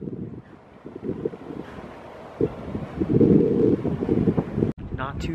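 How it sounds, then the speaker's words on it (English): Wind gusting outdoors and buffeting the microphone in low rumbling bursts, stronger in the second half, mixed with nearby street noise. "A little windy out."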